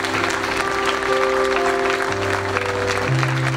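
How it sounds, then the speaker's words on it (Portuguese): A church congregation applauds at a Christmas charity service. The dense, continuous clapping goes on over sustained keyboard or organ tones, steady and moderately loud throughout. "Vamos aplaudir o Senhor nesse momento."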